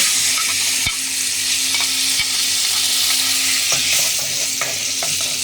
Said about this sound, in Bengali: এখন নাড়া দেবো ভালো করে